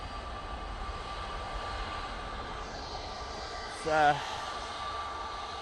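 EasyJet airliner taxiing at Manchester Airport, a distant steady jet engine whine and rumble, with a brief short tone cutting in midway.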